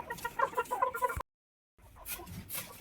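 Local chickens clucking inside a poultry shed, a close run of rhythmic clucks that cuts off abruptly into silence before softer clucking and rustling resume.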